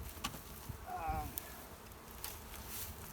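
Honey bees in an opened spring hive give a soft, continuous buzzing hum with a few faint knocks, fairly low in level and steady throughout.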